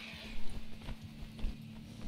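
Horse hooves clip-clop at a walking pace while riding in Red Dead Redemption II, a quiet, irregular run of soft thuds over a steady low background hum.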